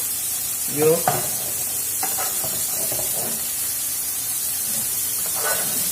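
A New York strip steak sizzles in a pan while butter is spooned over it, a steady bright hiss with a few scraping spoon strokes against the pan close by.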